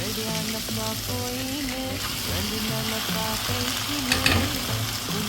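Cooked beef tipped into a hot pan for a beef and tapioca biriyani, giving a steady, loud frying sizzle with stirring scrapes and clatter, brief louder bursts near the end, no talking.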